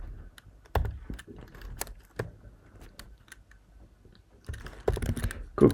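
Code is typed on a computer keyboard at close range, with irregular bursts of key clicks separated by short pauses and a quick flurry of keystrokes near the end.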